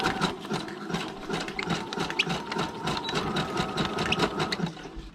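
A sewing machine stitches through paper in a steady, rapid run of needle strikes, close and continuous, with a faint squeak as the needle passes in and out.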